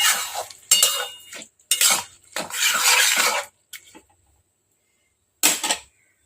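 A spoon scrapes and clatters in a pan while sugar is stirred into prawn curry with bottle gourd, several short metallic strokes in quick bursts, then a pause and one last scrape, close and clear.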